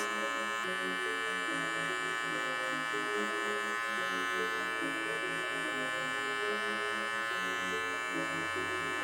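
Electric hair clippers blend a mid fade in a barbershop. The buzz is close, steady and continuous, its pitch wavering slightly as the blade moves through the hair.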